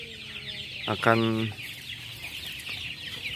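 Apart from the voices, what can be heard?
joper chickens clucking in coop at morning feeding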